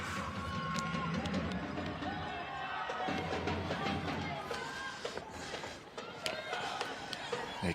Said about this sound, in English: The crowd are certainly warmed up Arbour Park with their vocal support this evening.